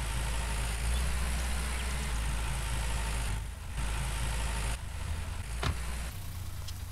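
A tractor engine idles in the Farmers Dynasty video game, a steady low mechanical hum with a couple of brief dips and a faint click, with no one speaking.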